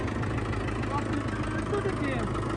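A Mahindra tractor engine idles in a steady, loud, low rumble that continues unbroken throughout. The tractor has a stuck gear.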